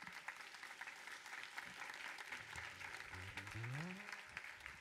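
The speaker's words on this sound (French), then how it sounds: "on peut les applaudir" Congregation applauding during a Sunday church service, a steady wash of clapping throughout, with low humming tones and a rising pitched sound near the end mixed in.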